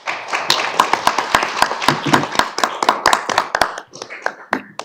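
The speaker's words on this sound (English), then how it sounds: "Round of applause" Attendees at a township board meeting giving a round of applause, a modest, scattered patter of individual claps that thins out toward the end.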